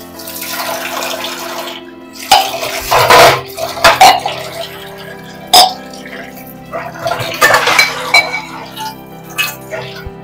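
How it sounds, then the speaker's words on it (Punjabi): Dishes, pots and utensils are scrubbed and washed in water, giving intermittent splashes and sharp clinks in irregular bursts, close by, mixed with people talking. "ਹਾਂ ਭਾਂਡੇ ਮਾਂਜ"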